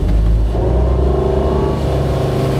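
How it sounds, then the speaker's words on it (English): Monterey 238SS surf boat engine at full throttle, a loud, close, continuous low rumble that holds steady as it drives hard throughout. "You go in gear, and you just floor it, and this should work."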